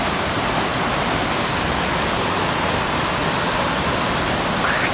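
Tat Yoi waterfall rushing in a steady, loud, continuous roar of falling water that fills the scene without a break.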